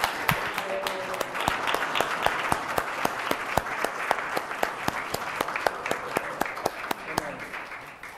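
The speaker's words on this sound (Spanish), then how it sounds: "Fuerte un aplauso, compañeros." Audience applause at a recognition ceremony during a conference for the International Day of Indigenous Peoples: a steady, dense wash of clapping with sharp individual claps standing out, sustained at even loudness for the whole stretch.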